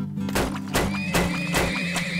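Horses in the game Turmoil neigh in a few close, loud whinnies, with clip-clopping hooves among them.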